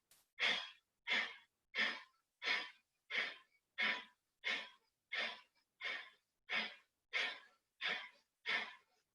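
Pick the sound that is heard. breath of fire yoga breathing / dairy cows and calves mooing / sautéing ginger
breath of fire yoga breathing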